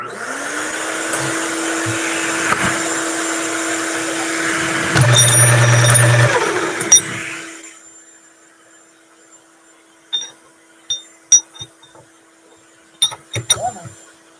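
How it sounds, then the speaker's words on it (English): A vacuum cleaner motor whines steadily for several seconds, then shuts off and spins down, leaving quiet with a few scattered clicks and knocks. "Here comes the vacuum."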